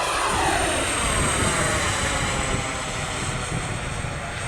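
A Flyfans MiG-25 Foxbat electric ducted fan jet model climbs at full throttle into a headwind, a loud, steady high-pitched whine and roar with wind rush that holds throughout.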